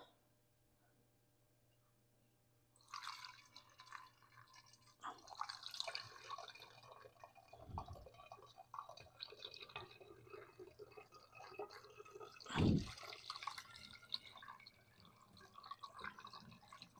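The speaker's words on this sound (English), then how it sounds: "let's go ahead and get this poured up" Kombucha is poured into a container over a sink: after a short silence, a quiet trickling pour begins with small splashes and drips, faint and uneven throughout.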